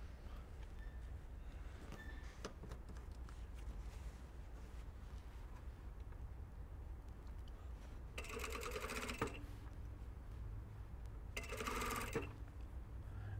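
A sewing machine stitching a black-thread seam joining a shirt collar to the neckline, two short bursts of rapid mechanical whirring separated by a pause, against a quiet room hum.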